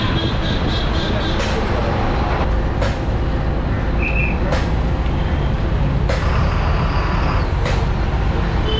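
Loud, continuous rumble of a Chennai MTC city bus with engine noise, hissing brake releases and clunks as it slows and stops at the Pallavan Salai bus stop.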